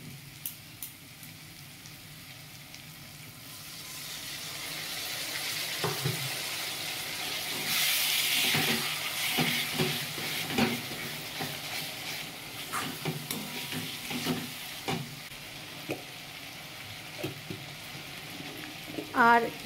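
Spices sizzle in a pan while mutton kosha is cooked, with a little water added to keep them from burning: a soft frying hiss that swells midway, broken by scraping and stirring clatter, with some speech nearby.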